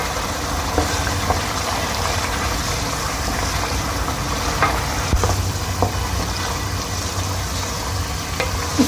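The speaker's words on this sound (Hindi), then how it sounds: "इसको हम भून लेंगे।" Chicken karahi masala with yogurt fries in a pan while being stirred, a steady close crackling sizzle with faint scraping, no voices.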